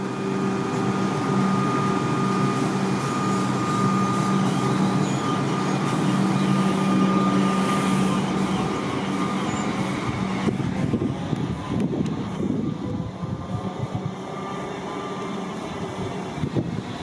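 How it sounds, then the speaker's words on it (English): A Comeng suburban electric train pulls out on Melbourne's Frankston line, heard from the platform as a steady mechanical hum and whine, followed by a rising, rattling rumble as the carriages move off. "There's the Comeng's departing."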